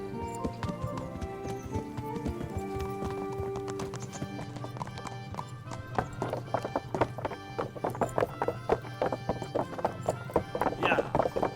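Hooves clip-clop at a quickening pace in the video game Kingdom Come: Deliverance, building from a trot into rapid galloping beats, with a horse whinnying and music in the background.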